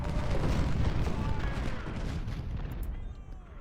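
Artillery fire from a Civil War battle in the Ultimate General strategy game, a dense rumbling barrage of overlapping booms that is loud at first and then slowly fades.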